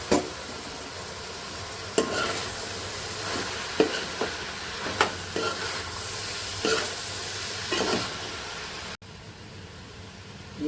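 Broad bean pieces sizzling steadily in a pan while a spoon scrapes through them in occasional sharp strokes. The steady frying hiss stays loud throughout.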